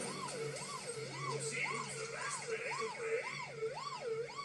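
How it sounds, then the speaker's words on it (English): A wailing siren in the video game Paw Patrol Grand Prix 2 rises and falls in steady, repeating cycles, loud and continuous, with a low engine hum underneath. "My siren's still blaring."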